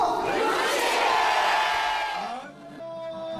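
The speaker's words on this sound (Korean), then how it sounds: "깃발과 부채, 팻말을 흔들고 환호성이 터져 나옵니다" A large crowd roars and cheers at a Busan Expo bid rally in a civic hall, a loud sustained wave of shouting that fades after a couple of seconds into quieter tones.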